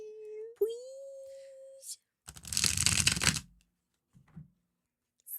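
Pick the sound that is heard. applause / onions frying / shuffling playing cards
shuffling playing cards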